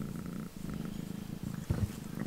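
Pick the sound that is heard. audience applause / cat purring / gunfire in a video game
cat purring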